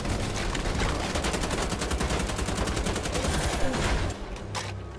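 Rapid automatic gunfire in the shooter Wolfenstein: The Old Blood, a dense rattling burst of shots that runs nearly five seconds before cutting off, loud and close with no speech.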